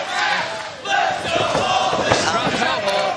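A wrestling crowd at the Crockett Cup chants and cheers in a loud, dense roar, voices rising and falling in rhythmic chant without a break.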